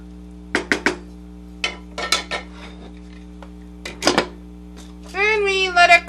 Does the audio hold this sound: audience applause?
no